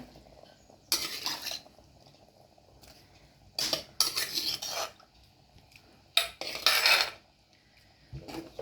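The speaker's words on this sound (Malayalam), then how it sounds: "നല്ലതായിട്ടൊന്ന് ഇളക്കി കൊടുക്കാം നമുക്ക്" A spoon stirs sardine curry with ground coconut in a metal pot in three separate bursts of scraping and rubbing against the pot, with light clinks and quiet pauses between them.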